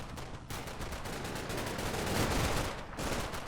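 Sustained gunfire from the World War II game Combat Mission: Battle for Normandy at Villers-Bocage, dense overlapping rifle and machine-gun bursts crackling continuously and loudly throughout.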